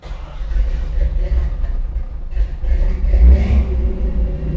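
Cold car engine with a carburetor and choke struggling to start and idle in freezing weather, a loud uneven rumble that surges and sags, revving up near the end before dropping back.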